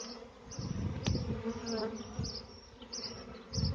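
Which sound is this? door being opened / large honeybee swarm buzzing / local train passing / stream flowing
large honeybee swarm buzzing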